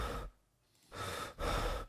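Breathing sound effects from a game audio system: two breaths, a soft breath then a pause, then two louder breathy exhales or sighs in quick succession, close and clear with no talking.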